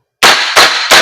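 An airsoft gas blowback rifle fires in semi-auto, giving three sharp, loud, close reports in quick succession with a short gap between each, and no talk over them.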